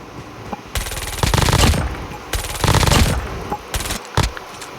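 Machine pistol firing in a first-person shooter video game: several loud bursts of rapid automatic fire, two long sustained volleys and a few short ones, close and dry with no talking.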